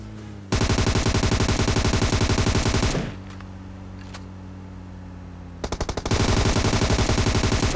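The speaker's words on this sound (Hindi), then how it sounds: "पीछे से आती फायरिंग की साउंड" Rapid automatic gunfire in a military-base shooter video game: a long, loud sustained burst, a quieter stretch with faint distant shots, then another heavy burst of fast repeated rounds.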